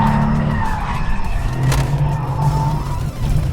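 A 2010s-era Audi RS5 with all-wheel drive is driven hard around a race track, its tires skidding and squealing steadily over a loud, continuous engine roar for several seconds.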